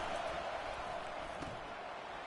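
A steady, distant roar of a stadium crowd in a college football video game, a constant low wash of cheering with no distinct voices.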